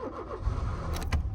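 A small car's engine runs steadily with a low rumble close by, filling the whole short stretch with no talk over it.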